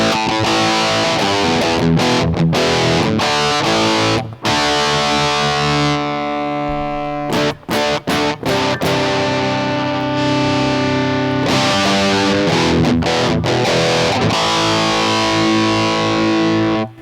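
Electric guitar through an EHX Metal Muff Pocket distortion pedal, loud and saturated, with sustained heavily distorted chords and riffs broken by a few brief stops, playing alone without talk.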